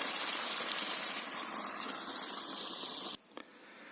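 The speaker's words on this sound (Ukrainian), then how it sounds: "десь тут витікає водичка ставочка" Water pouring steadily out of a village pond in Ternopil region, a continuous close rushing gush that cuts off abruptly near the end, leaving quieter ambience.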